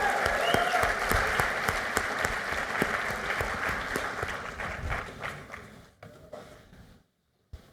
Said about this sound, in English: Can I get one more big round of applause for everybody who volunteered for this?